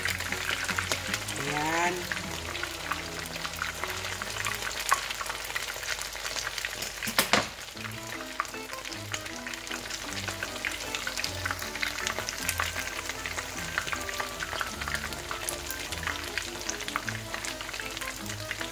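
Tortang dilis, an anchovy omelette, frying in oil with a steady close sizzle. A short clatter as it is flipped comes partway through. A voice speaks briefly.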